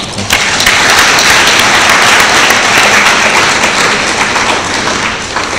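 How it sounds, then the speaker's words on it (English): Audience applause at a public panel forum, a dense steady roll of many hands clapping that holds loud for several seconds and eases slightly toward the end. "Shall we please clap for him?"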